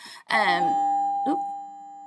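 A doorbell gives a close, loud two-note ding-dong chime, the second tone ringing out and slowly fading.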